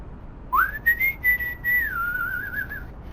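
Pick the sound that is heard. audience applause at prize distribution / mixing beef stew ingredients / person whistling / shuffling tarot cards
person whistling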